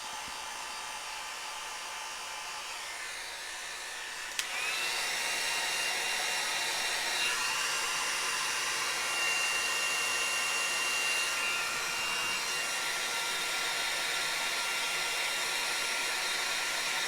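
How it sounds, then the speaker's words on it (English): A hair dryer blows on pigment ink, first a softer whir, then clicking up to a louder, higher setting that roars steadily for the rest of the stretch, close by with no talking. "It does need to dry, but this is quick and we'll just use our hair dryer on it."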